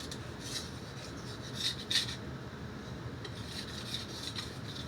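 A knife edge being sharpened on a Suehiro Rika waterstone gives a quiet, steady raspy scraping in short strokes, close up and alone, with a few brighter scratchy passes.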